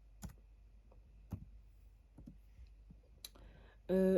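Quiet, sparse keystrokes on a computer keyboard, a few isolated clicks spaced irregularly, then a sudden louder tonal burst cuts in at the very end.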